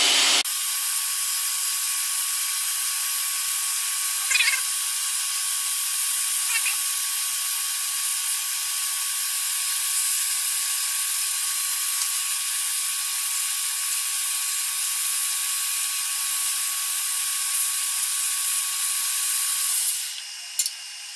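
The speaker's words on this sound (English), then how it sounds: "I'm just going to go in with some sandpaper." A ring of blue-jean micarta is sanded by hand with sandpaper in a long, steady, close hiss of abrasive rasping, broken by a few faint ticks and stopping abruptly at the end.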